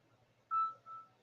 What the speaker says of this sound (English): I don't like that noise your phone makes